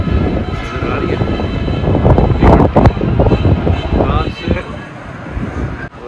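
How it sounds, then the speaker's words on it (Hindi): Strong wind during a dust storm blowing loudly and close, a continuous rough roar with gusty surges, while someone talks over it. "मट्टी ही मट्टी है और हवा चल रही है बस"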